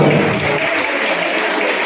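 An audience at a celebration event breaks into loud, dense clapping, a continuous close-up wash of hands with no gaps throughout.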